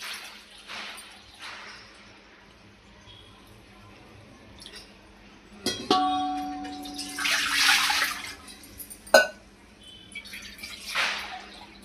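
Water is poured from a jug into a pot on a lit gas stove to make dough for bhajani chakli, a splashing rush rising midway and tapering off, with drips and a clunk of the vessel.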